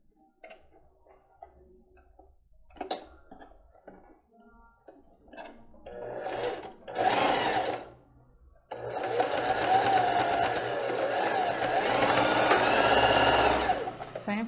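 A domestic sewing machine stitches children's panties, first in brief starts among handling noises and a voice, then a long steady run of rapid stitching close up.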